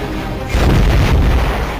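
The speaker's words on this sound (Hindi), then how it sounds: "एक से ज्यादा धमाकों की आवाज नेवल डॉकयार्ड से सुनी गई।" Explosions at the Colaba naval dockyard in Mumbai, from the Navy submarine INS Sindhurakshak, land as a heavy, deep boom that bursts in abruptly and rolls on as a sustained rumble.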